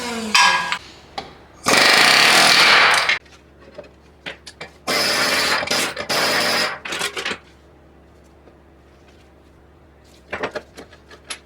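Air hammer working on a 2nd gen Toyota Tacoma rear wheel bearing rattles in loud, close sustained bursts of about a second each, separated by quieter clunks of metal and tool handling, with a final short burst near the end.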